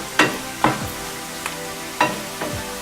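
Gram flour cooks in a pan while a spoon stirs it, giving a few sharp scraping strokes against the pan over a soft, steady sizzle, with no voices.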